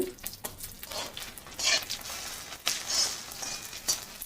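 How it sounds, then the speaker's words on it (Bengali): A dried red chilli frying in hot oil, irregular bursts of crackling sizzle that swell and fade, moderately close with no voices. "আর একটা শুকনো লঙ্কা দিয়ে দিলাম এক পাশে এই তেলের মধ্যে"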